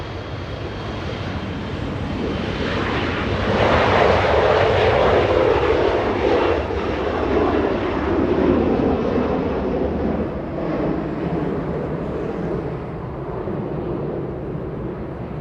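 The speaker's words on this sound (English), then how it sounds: "A little E-175 getting a move on. Flying to San Francisco." A SkyWest Embraer E-175 jet takes off at LAX bound for San Francisco, its engine roar swelling to a broad, loud rush and then holding a sustained, slowly fading roar, heard alone.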